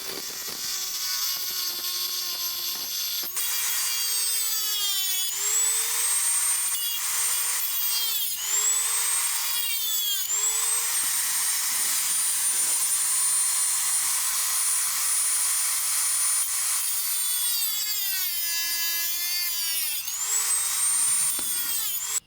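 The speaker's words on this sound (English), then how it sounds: "I'm going to just file it off with the Dremel toolkit" A Dremel rotary tool filing down a nut or screw end, whining steadily at high speed for over twenty seconds, its pitch dipping repeatedly as the bit bites into the metal, loud and close with no talk.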